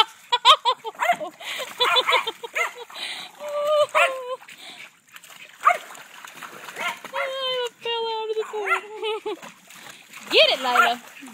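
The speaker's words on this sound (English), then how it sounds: "I'm so glad to see her playing in the water." Boxer puppy splashing and playing in shallow pool water, with bursts of splashes and excited yelps and barks while several people keep calling out and cheering close by.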